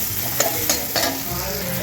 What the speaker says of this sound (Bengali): কড়াইতে এবার দিয়ে দিলাম পেঁয়াজ